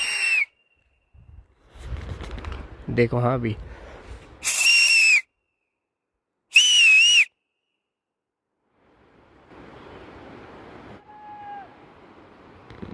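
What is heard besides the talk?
fishermen whistling to each other by a river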